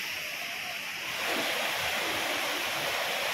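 Water rushes steadily through a forested stream near Vadattupara waterfalls in Kothamangalam, a dense, continuous broadband roar that grows slightly louder after the first second, with no voices.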